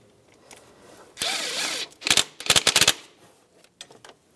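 A ratchet on a Volkswagen Beetle speed sensor bolt makes a sustained whirring burst, then a rapid run of sharp clicking ratchet strokes, close and fairly loud against a quiet background.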